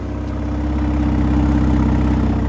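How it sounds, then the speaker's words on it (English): A 2025 Ram 1500 RHO pickup's inline-six engine idles, a steady low, even rumble heard close up with no talk over it. "The inline 6 is not a great sounding engine."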